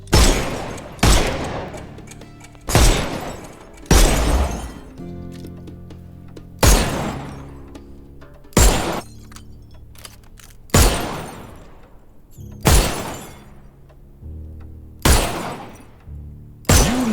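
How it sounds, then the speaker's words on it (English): Repeated loud gunshots, each followed by breaking glass, as bottles are shot in the video game Sherlock Holmes Chapter One; about nine sharp bangs spaced one to two seconds apart over a low musical background, with no talking. "See those bottles over there? Go on, shoot them."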